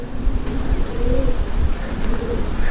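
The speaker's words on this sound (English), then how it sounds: "Sounds like it's full of pigeons." Soft, low pigeon coos repeat a few times amid a steady noisy background rumble, echoing inside an enclosed hammer mill.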